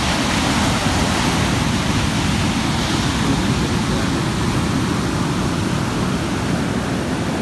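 Waves break on a beach in Bali at high tide, a loud, continuous rushing wash of surf that stays steady throughout, with no voices.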